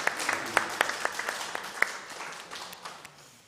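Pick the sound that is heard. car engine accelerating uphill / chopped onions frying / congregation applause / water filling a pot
congregation applause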